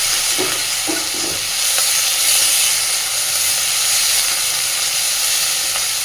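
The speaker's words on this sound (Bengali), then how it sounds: "এবার হালকা করে পেঁয়াজ রসুনটাকে ভেজে নেব" Grated onion and garlic fry lightly in a pan for a red lentil dish, a steady, loud sizzle and hiss that stays even throughout.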